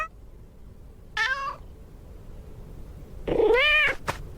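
A talking cat in the first-person horror game AIMBOT gives two drawn-out meows, each about half a second, separated by a pause, close and fairly loud over a quiet background.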